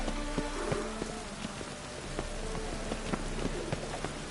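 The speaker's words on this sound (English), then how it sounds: "It just rains and rains." Steady, dense rain falls on surfaces in The Witcher 3, a constant close hiss of drops with occasional louder individual taps and no talking.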